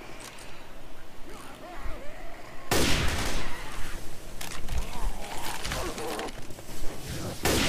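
Hunting rifle gunfire in Left 4 Dead 2, loud sharp shots starting a few seconds in and repeating irregularly over dense game noise and scattered infected sounds, with no clear talk.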